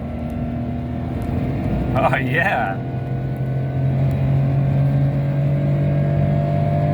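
A 1985 Nissan Bluebird accelerating hard on a road, engine droning and climbing through a gear change, with a brief spoken exclamation partway through.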